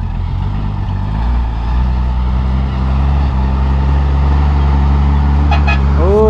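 Truck engine rumbling steadily as it drives down toward a corral on a flooded farm, a loud, close, low drone holding throughout with a brief high squeal near the end.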